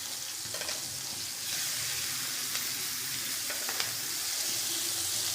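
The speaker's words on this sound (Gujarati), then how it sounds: "અને હવે નાખીશું ડુંગળી। ડુંગળીને થોડી સાતળી લઈશું।" Chopped onions sizzle steadily in hot oil in a pan for a sev tameta curry, a continuous close frying hiss that grows a little louder partway through, with a few faint clinks of a stirring spoon.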